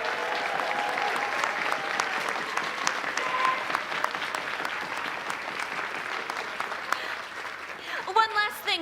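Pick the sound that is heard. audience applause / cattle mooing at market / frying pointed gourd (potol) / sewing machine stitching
audience applause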